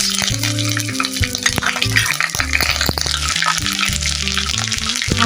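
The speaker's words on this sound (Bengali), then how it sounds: "ওই তেলের মধ্যেই দিয়ে দেব আদা রসুনের পেস্ট।" Ginger-garlic paste sizzles in hot oil left from frying chicken for biryani, a steady close crackle running throughout, with a low tonal backing like music beneath it.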